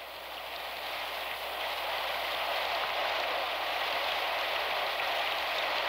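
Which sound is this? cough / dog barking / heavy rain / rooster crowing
heavy rain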